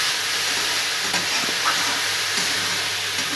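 Banana flower fry being stirred in a hot pan: a loud, close, continuous sizzle with soft scraping strokes of the spoon mixing it through.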